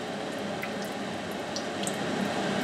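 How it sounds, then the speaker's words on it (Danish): Liquid from canned button mushrooms being drained and poured, a steady wet trickle and gurgle with faint drips, close and continuous. "vi dræner lige væsken af champignon"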